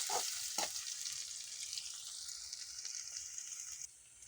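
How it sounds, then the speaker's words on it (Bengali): Garlic sizzles in a pan alongside browned fried fish, a hissing, crackling fry with a couple of sharp spits near the start that settles into an even sizzle before dropping quieter at the end. "মাছগুলো আমি বাদামি করে ভেজে নিয়েছি এবং রসুনগুলো হালকা ভেজে নিতে হবে এবং দিয়ে দিচ্ছি"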